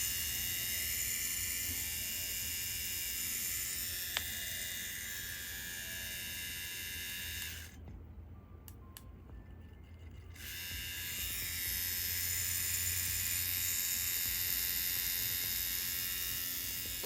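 A tattoo machine fitted with an InkClaw Phoenix 2.0 grip runs with a steady, smooth, high-pitched buzz, stops for about three seconds, then starts again and keeps running.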